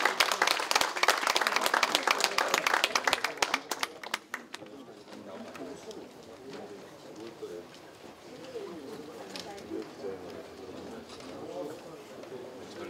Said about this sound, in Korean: 1년 동안 고생하셨다고 박수 한번 부탁드립니다